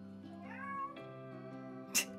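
A cat howls and meows in the background, a drawn-out wavering yowl lasting a couple of seconds and ending in a short, sharper cry.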